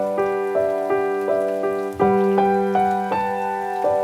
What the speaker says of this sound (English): I added some rain to wrap things up and give it a nice reflective feel